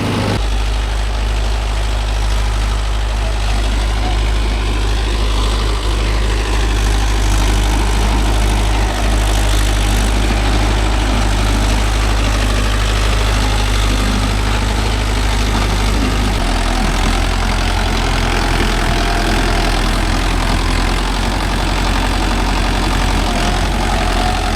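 Mahindra Yuvo Tech Plus 585 4x4 tractor pulling a five-tine cultivator in a rice field, its engine a loud, steady low drone holding even revs throughout, close and with no talking.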